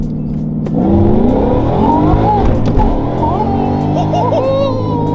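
A Whipple supercharged Mustang GT fitted with beadlock wheels accelerates hard, its engine rising in a loud, sustained climbing roar with a whining supercharger over it, heard close and alone.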